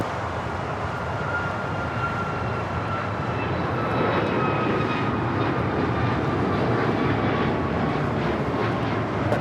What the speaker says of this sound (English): This is Alaska Airlines 1240 taking off to Portland on the MAX 9